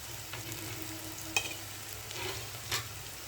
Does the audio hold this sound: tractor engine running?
no